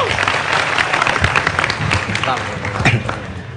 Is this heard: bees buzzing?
no